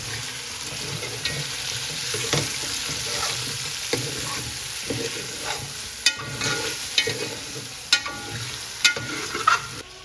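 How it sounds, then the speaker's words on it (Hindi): Ajwain (carom seeds) fry in hot oil in a pan for a fish head curry, a steady close sizzle broken by sharp scrapes and clatters of a spoon stirring, with no talking. "ये देखिए अजवाइन शामिल कर दी इसमें। अब इसको आप 2 मिनट तक भूनेंगे।"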